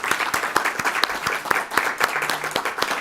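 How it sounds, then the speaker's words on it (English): Audience applause at a summit on Africa's future, a brisk, even patter of many hands clapping at close range, sustained for a few seconds without voices. "if I may please just indulge another round of applause for the fabulous statements and words"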